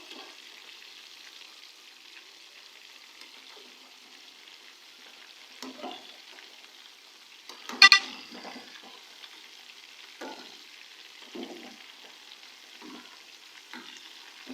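Chicken pieces fry softly in a karahi for Chinese-style chicken karahi, a low steady sizzle with occasional stirring scrapes and one sharp utensil clatter near the middle. It stays faint throughout, with no voices.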